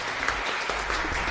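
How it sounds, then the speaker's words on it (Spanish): Congregation claps in a chapel during a Corpus Christi service, a brief burst of scattered applause heard at moderate level, with a few individual claps standing out. "Fuerte aplauso para el Señor entonces."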